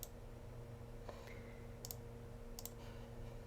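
Mouse clicks in astronomy image-processing software, a few short sharp ticks spread across the stretch over a steady low electrical hum, no talk.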